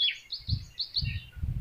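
Birds call in trees, several short high chirps and twitters over low rumbling handling noise, with doves among them, brief and fairly close.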